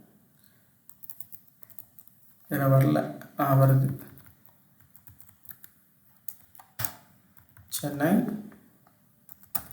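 Bursts of typing on a computer keyboard, entering Tamil text, come in short clusters of clicks while someone speaks in Tamil over them.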